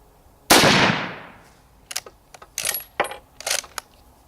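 A restored 1918 BSA No.1 Mk.3 Enfield rifle fires one loud, sharp shot with a long fading echo, followed by several close metallic clicks and clinks.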